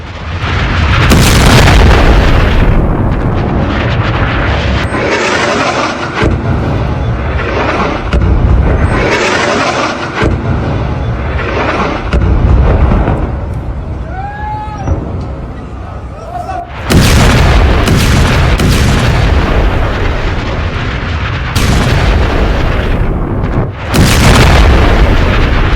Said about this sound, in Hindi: लेबनान के अंदर घुसकर देखिए जरा, एक के बाद एक कई धमाके हुए।